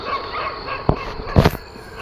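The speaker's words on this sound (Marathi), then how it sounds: "आता एकटा चालू तिकडे कुत्रे ओरडतात सगळी." Dogs bark outdoors: two sharp, fairly close barks about half a second apart stand out over a steady low background hum.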